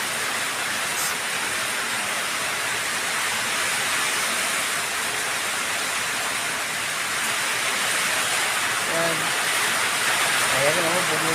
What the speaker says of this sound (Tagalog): bumibigay yung hangin lang dito pero bugso-bugso. Kaya lang yung ulan ang malakas.